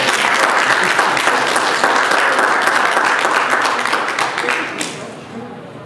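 A wedding congregation breaks into loud, sustained applause that fills the room and then gradually tapers off, with a few voices mixed in.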